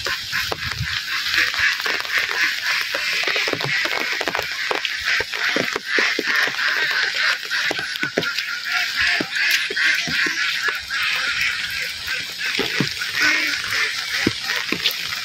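A flock of domestic ducks quacks loudly and continuously at close range while being given their morning feed, the calls overlapping in a busy, excited chorus.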